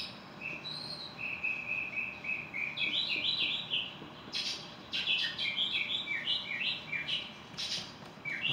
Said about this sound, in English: there's a lot of birds in the background making noise